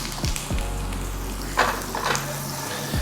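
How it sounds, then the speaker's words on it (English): A stick of butter melts and sizzles in a hot pan with sautéed potatoes, a steady loud frying hiss with occasional utensil scrapes and stirs. "we're just gonna add a stick of butter in at the end"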